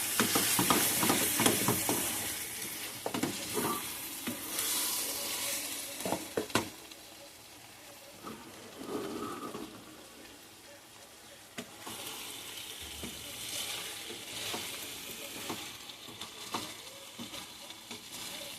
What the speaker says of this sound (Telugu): వేసిన తర్వాత ఒకసారి మళ్ళీ ఇలా కలుపుకోండి. బాగా కలుపుకోండి ఒకసారి.